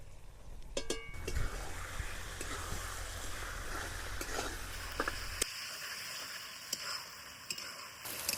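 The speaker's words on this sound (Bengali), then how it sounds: "মাটন চর্বিগুলা এমনভাবে আমরা কষি নিই যে চর্বিগুলা কিন্তু গলি হনে একদম তেলে পরিণত হয়ে যায়।" Mutton fat being stir-fried in a pan until it melts into oil, giving a low steady sizzle with occasional scraping stirs and light clicks, quiet and close.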